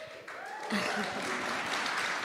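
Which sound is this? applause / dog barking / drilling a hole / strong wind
applause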